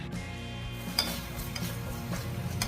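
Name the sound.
onions frying in oil for chicken biryani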